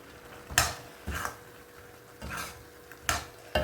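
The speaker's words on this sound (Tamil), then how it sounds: "நல்லா கலந்து விடுங்க" A spoon stirs babycorn pepper fry in a pan right after coriander goes in, giving five close scraping and clattering strokes at a steady, unhurried pace with faint sizzling underneath.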